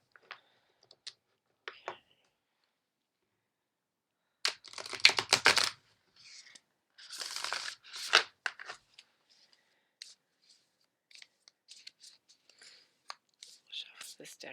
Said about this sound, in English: Shuffle this deck really well.